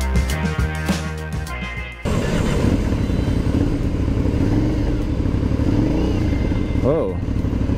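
An Aprilia Shiver 900 naked sport motorcycle is ridden on a test ride. Its engine idles with a rumble, then pulls away with a loud, sustained drone and rising revs, and a voice talks over it.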